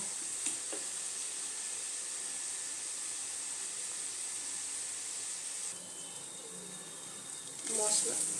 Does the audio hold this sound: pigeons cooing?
no